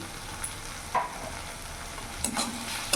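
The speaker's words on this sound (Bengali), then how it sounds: "ভালো করে নাড়াচাড়া করে নেব মশলাটা আমি কিছুক্ষণ কষিয়ে নেবো যতক্ষণ না মশলা থেকে তেল ছেড়ে দিচ্ছে" Ground turmeric, cumin, chilli and coriander powders stir-fry in a pan for a bhola fish masala curry, a steady sizzle broken by a few scraping clinks of the spoon, with no voices.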